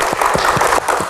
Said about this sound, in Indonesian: Tepuk tangan untuk Profesor Nasaruddin.